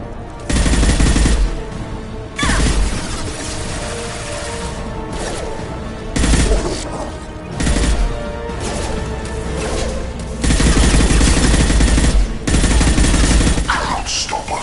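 Rapid automatic gunfire and sharp impacts in the game Mass Effect 2, coming in loud repeated bursts with short pauses between them, alongside crashes and whooshes of combat, with occasional voice lines mixed in.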